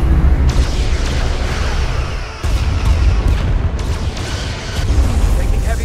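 Starship combat in Star Trek Resurgence: a steady roar of weapons fire and booming impacts, with repeated bursts and sharp hits over a dense low rumble, close and loud throughout.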